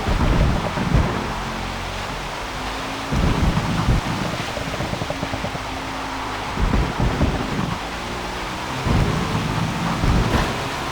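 Simulated rain and thunder during a wet race at Sebring in Forza Motorsport, a steady hiss of rain with rolling thunder rumbles swelling up every few seconds, with no voices.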